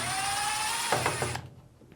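Stainless steel Phillips screws being backed out of a Samsung washing machine lid hinge with a power driver: a steady whirring tone, then a few quick ratcheting clicks before it cuts off, close and moderately quiet.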